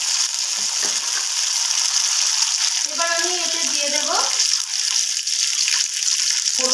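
Chopped tomato goes into onions frying red in hot oil for a boal fish curry, producing a close, even sizzle that runs throughout, with a brief tonal squeak midway.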